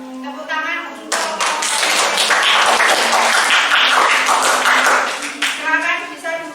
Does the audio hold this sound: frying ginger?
no